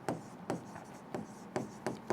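Marker or pen strokes writing names on a board, a series of short scratchy bursts spaced roughly every half second, fairly close and clear with no talk over them.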